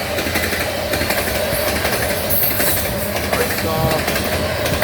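Southbound grain train G888 with an SD70M-2 and a CN C44-9W locomotive rolls past close by, a steady rumble of engines and rattling cars with a rhythmic clatter, and a voice speaks briefly over it.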